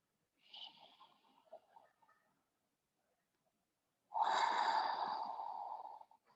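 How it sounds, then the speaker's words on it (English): Slow breaths drawn in and let out through the nose during a guided hip flow yoga practice: a soft, airy nasal breath, a quiet pause, then a longer, louder breath that is close and clearly audible. "Through the nose, fills it up."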